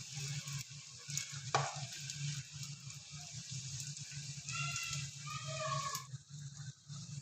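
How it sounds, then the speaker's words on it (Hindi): Katori chaat cups fry in oil over a medium-to-low flame, giving a steady soft sizzle with occasional bubbling and stirring noises, fairly quiet throughout. "अब हम इसके अंदर ऑयल डालेंगे ताकि इसके अंदर वाली साइड भी अच्छी तरह से पक जाए"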